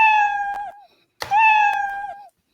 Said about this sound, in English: you can hear the meow sound.